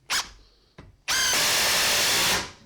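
A Ridgid Gen5x impact driver sinks a 2.5 inch screw at top speed: two short bursts, then a loud, sustained whirring hammer lasting over a second before cutting off.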